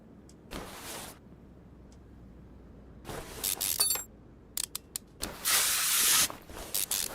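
WD-40 sprayed onto rusted parts while stripping a Porsche in a car restoration simulator game, heard as several short and longer hissing spray bursts with clicks between them, fairly close and with no voice.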